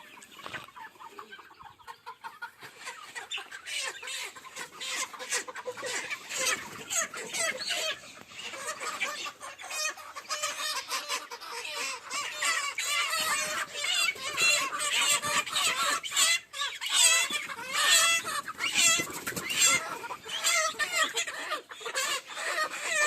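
A flock of Sonali chickens at a poultry farm clucks and squawks nonstop, a dense, busy chorus that grows louder and fuller toward the end, with no one speaking.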